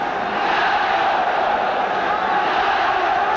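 A football stadium crowd roars steadily in support of the Chinese national team during a 1982 World Cup qualifier against New Zealand, a dense, continuous wash of cheering voices that stays at an even, loud level throughout.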